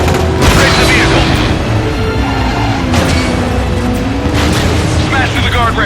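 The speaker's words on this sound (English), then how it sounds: "Pass close to the explosion." Explosions in the stunt-driving game Stuntman Ignition: several deep booming bursts rise out of a constant loud roar of engine and crash noise, spaced a second or two apart.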